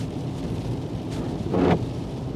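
Heavy rain pours steadily during an atmospheric river storm, a dense constant wash with a brief low rumble of thunder swelling near the end, no voices.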